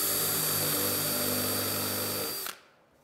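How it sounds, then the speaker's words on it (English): A power drill drilling a pilot hole for a screw whines steadily at close range for about two and a half seconds, then cuts off abruptly into quiet. "So all I'm gonna do is pilot drill and drive those two screws."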